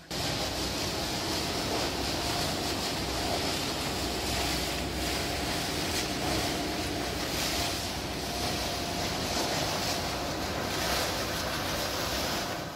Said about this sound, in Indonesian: Yang keluar dari mesin crusher ini adalah cacahan sampah yang kasar.